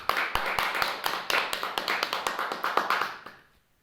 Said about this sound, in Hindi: तो हम चाहेंगे एक बार आप लोग अपने लिए दिल से एक बार जोरदार तालियां